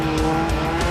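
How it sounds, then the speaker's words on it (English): A Lotus Super Seven drifts on a wet track, a brief burst of engine roar with tire noise, loud and close for under a second. "Klemp treats us instead to a couple of creamy drifts."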